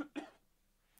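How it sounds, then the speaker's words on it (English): A cough during a reading, two quick, close throat bursts followed by near silence. "Weed cough."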